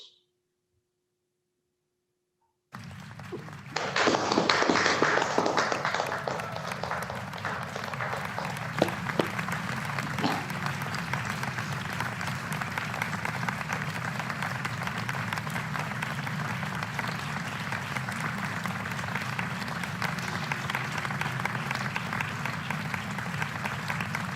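Sustained audience applause at the 2021 Alberta Community Justice Awards ceremony, starting after a brief silence with a loud burst of clapping that settles into steady, even applause throughout.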